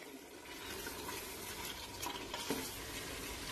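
Bottle gourd chicken curry is mixed in a pot over a low to medium flame, giving a continuous soft stirring and bubbling sizzle with faint scrapes. No one speaks.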